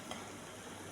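Pansit bihon rice noodles being stir-fried in a pan, a steady soft sizzle with faint stirring scrapes, continuous and fairly quiet throughout.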